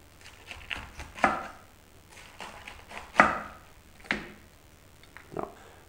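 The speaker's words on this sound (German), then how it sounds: "dann schneide ich mir den in etwa 1 cm breite Streifen" A kitchen knife slices pointed cabbage into strips about one centimetre wide on a board, several distinct chopping knocks at an irregular pace with quieter cuts between them, close and fairly soft, with no talking.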